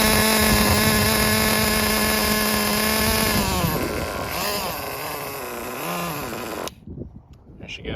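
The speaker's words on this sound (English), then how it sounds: "Now we're just going to let her idle for another 1 to 2 minutes" A Traxxas Jato 3.3 nitro RC car engine idles loudly and steadily close by, a high buzzing drone that wavers and fades partway through before cutting off near the end.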